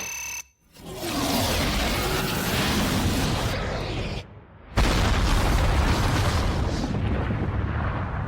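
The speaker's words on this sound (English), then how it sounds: "Particle cannon!" A particle cannon fires in a science-fiction radio drama: a deep roaring blast cuts out abruptly, then a second heavy explosion booms and rumbles on loudly to the end.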